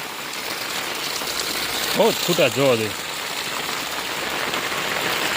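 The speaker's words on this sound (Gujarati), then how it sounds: "થોડોક ધીમો પડી ગયો અત્યારે વરસાદ" Heavy rain pours down steadily across a village, a constant broadband hiss throughout, with someone speaking briefly over it midway.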